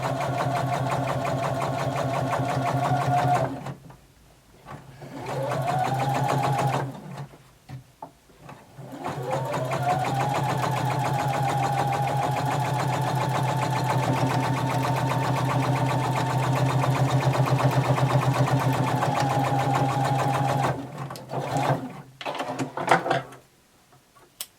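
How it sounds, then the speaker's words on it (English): A sewing machine stitches bias binding onto a jumpsuit in long steady runs, its motor humming loud and close, with short pauses between bursts and a few small clicks near the end. "Now you have your bias binding sewed all the way around."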